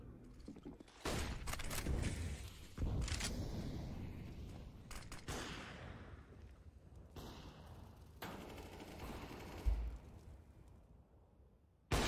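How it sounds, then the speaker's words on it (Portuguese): Gunfire in a Counter-Strike match on Dust2 during a pro tournament final: sharp bursts and single shots, some fired while moving, scattered across the round with a loud spike near the end. "o NQZ ele atirou andando esse tiro aí"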